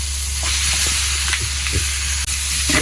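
Meat stir-fried in a hot pan with chili and sauce sizzles loudly and continuously, with a close, steady hiss and occasional scrapes of a stirring utensil and no talking.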